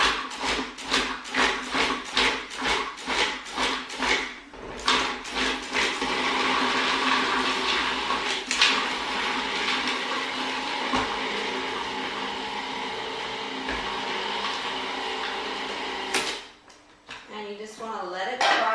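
Vitamix blender processing frozen bananas into ice cream, starting with a series of short, loud pulses, then a sustained whirring run, and ending with the motor cutting off before a voice speaks.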